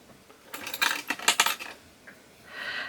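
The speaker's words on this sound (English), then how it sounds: "I'm just going to chop straight down the middle" Blade chopping through polymer clay, a series of light, clicky taps and scrapes on a hard work surface, clustered in quick bursts close up, with a softer brushy sound trailing at the end.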